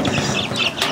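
Chickens in a home coop cluck and make short murmuring calls up close, a few overlapping bursts with fowl chatter and no talking.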